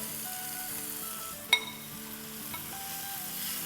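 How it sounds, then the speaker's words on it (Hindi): Hot oil sizzles steadily in a pan on a medium flame as chicken keema masala fries, with soft stirring and one sharp clink of a spoon against the pan partway through. "सिजल हो रहा है ऑयल, तो मसाला अच्छे से भुन गया है।"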